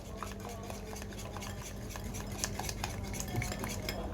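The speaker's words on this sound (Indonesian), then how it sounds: "Kita akan kocok ya hingga tercampur rata." Eggs mixed with powdered seasoning are whisked in a bowl, giving a fast, steady clatter of utensil against the bowl, quiet and close, with no voices.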